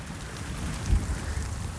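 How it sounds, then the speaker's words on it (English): Rain falls steadily on a nature trail in a scrub conservation area, a dense, even hiss with a low rumble swelling briefly near the middle, and no voices. "I wonder if this rain is going to stop."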